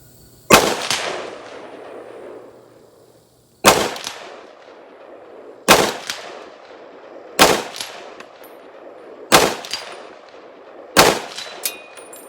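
Six loud, sharp gunshots from a PSA 8.5-inch 338 ARC rifle with AAC ammunition, fired one at a time about two seconds apart, each a hard crack followed by a short ringing decay.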